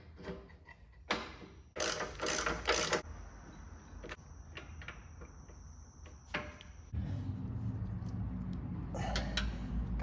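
Ratchet work on the Boyd Coddington swingarm shock mount bolts of a Harley-Davidson Bad Boy, several short clicking ratchet bursts close by, followed by a steady low mechanical hum.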